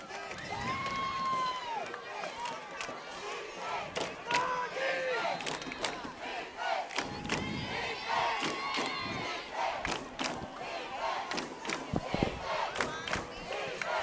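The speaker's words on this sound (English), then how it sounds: "This crowd is pumped up. They're making their Trips opinions left. known." A high school football crowd cheers and yells in the stands, a busy mix of shouts, whoops and sharp bursts rising and falling over several seconds, with voices talking among the noise.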